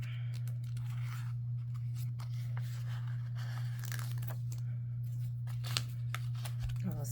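Scissors snip and crinkle through a sticker sheet in short close cuts over a constant low electrical hum, with rustling paper handling throughout.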